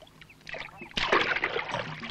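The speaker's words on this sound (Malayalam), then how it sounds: "ഞാൻ തുഴയാം." Oars dip and splash as a wooden rowboat moves across water, with soft watery strokes building to a louder, sustained swish of disturbed water near the end.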